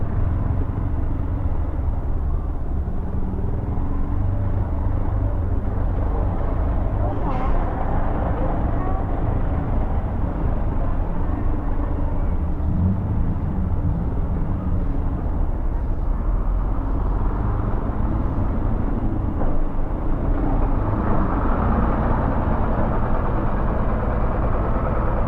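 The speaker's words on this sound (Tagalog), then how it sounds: "Nandito na yung buntot ng traffic." Traffic jam of idling cars, buses and motorcycles on a city road, a dense, steady engine rumble filling the whole stretch close by, with a rider's voice faintly mixed in.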